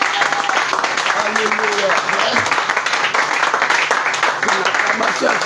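A church congregation applauding and cheering, dense continuous clapping mixed with shouting voices, loud and sustained throughout.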